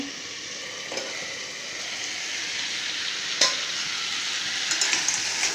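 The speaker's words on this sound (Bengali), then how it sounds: "আমরা একটু 5 মিনিট এভাবে কষিয়ে নেব হালকা আঁচে।" Chicken drumsticks with spices sautéing on low heat for tengri soup, a steady gentle sizzle with occasional soft stirring clicks and scrapes, close and moderately quiet, no talking.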